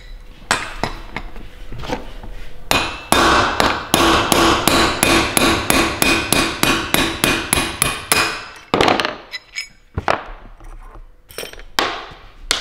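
Piston pin bushing being hammered out of an Audi RS4 engine connecting rod, a few loose metallic knocks and then a fast run of about twenty ringing hammer blows, followed by a scattering of separate sharp strikes.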